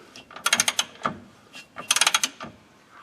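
Ratchet wrench clicking in two quick bursts of rapid pawl clicks while tightening a bolt on a car's rear suspension, close and crisp with brief pauses between strokes.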